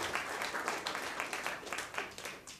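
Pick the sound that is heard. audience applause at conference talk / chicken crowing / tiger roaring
audience applause at conference talk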